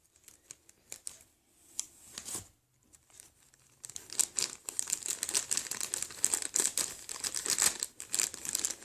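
Crisp snipping and crinkling sounds repeat close by, sparse at first and then quicker and busier, as scissors held in one hand cut through paper.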